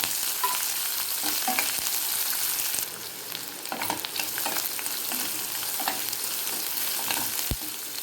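Chopped large onion and chana dal frying in a pan for beans poriyal, a continuous crackling sizzle with scattered scraping stir strokes, close and fairly soft, no voices.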